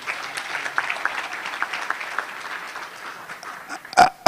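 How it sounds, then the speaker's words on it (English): Audience applause at a Cumberland County Legends awards ceremony, a moderate wash of clapping that fades toward the end before a couple of loud close sounds break in. "Please, a round of applause."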